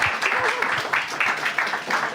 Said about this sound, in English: So let's all give our 4 distinguished panelists a big round of